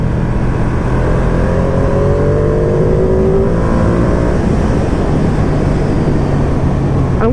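A 2020 Ducati Panigale V2 engine runs loud and close, holding a steady rumble with a rising and falling rev partway through, continuous throughout with no voices.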